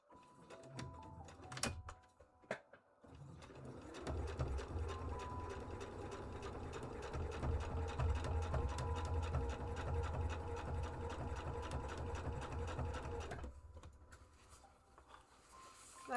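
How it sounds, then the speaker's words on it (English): A sewing machine runs in a long, steady stitching burst at close range after a few short starts and clunks, its rapid needle chatter continuing for about ten seconds before stopping. "I'm gonna keep sewing."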